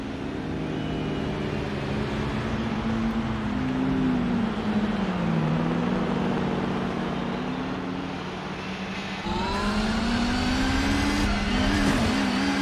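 An R89C race car in Gran Turismo 4 drones under load, its engine note rising and falling through gear changes, with tyre squeal and other cars around it on a Le Mans-style circuit.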